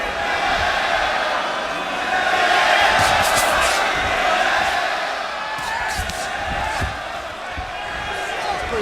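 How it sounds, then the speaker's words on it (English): Roaring crowd of Mexican fans at a boxing match, a dense sustained cheer that swells in the middle, with whistles and shouts mixed in and a commentator talking over it. "You hear the crowds, when you hear the Mexican fans"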